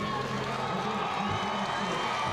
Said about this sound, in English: hearing it from the crowd on the home side of Ford Stadium